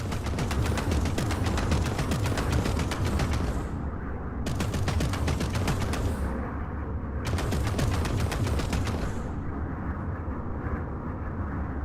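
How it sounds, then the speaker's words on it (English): Rapid bursts of plasma cannon fire from a space-combat video game, Strike Suit Zero: Director's Cut, three long dense volleys of loud rattling shots separated by brief pauses, with no talking. "Don't forget, plasma cannons drain weapons energy."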